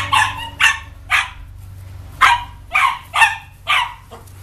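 A dog barking close by in a series of about seven sharp, evenly spaced barks, loud and alone over a low background hum.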